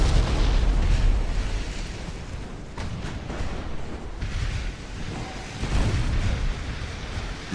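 Naval gunfire from the 1890-era battleship game Ultimate Admiral: Dreadnoughts, with heavy, rumbling booms and a surf-like roar of sea and wind rolling on without pause, loud and dense with no talk.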